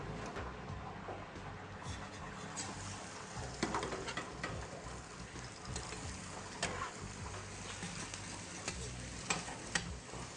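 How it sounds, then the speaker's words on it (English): Beef burger patties fry on a griddle in a mobile burger and fries unit, a soft steady sizzle with scattered crackles and light ticking clatter throughout. "I'm going to pop a patty on there."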